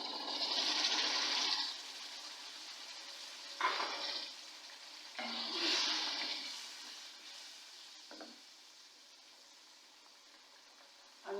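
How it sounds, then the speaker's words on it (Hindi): Ground gravy goes into a handi of browned boneless chicken and sizzles loudly, with several bursts of hissing frying that die away between stirs. "अब मैं इसमें डालूँगी ग्रेवी।"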